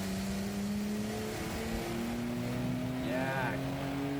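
Nissan Skyline R34 GT-R engine revving on a dyno, a steady droning tone that climbs slowly in pitch, moderately loud and continuous with a brief higher whine near the end.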